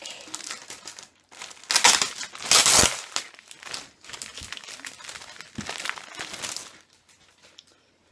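A plastic bag holding grey sprues from an Eduard 1/48 scale model kit is crinkled and handled, giving bursts of loud rustling and crackling with brief quieter gaps in between.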